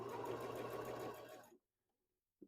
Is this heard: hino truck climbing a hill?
no